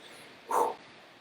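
A single short bark from a dog, slightly distant against a quiet background hiss, with no talking.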